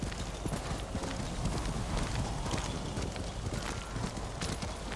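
Horse hooves galloping in the video game Ghost of Tsushima make a steady, dense clip-clop rhythm that runs through the whole stretch at moderate loudness over a continuous wash of outdoor game ambience.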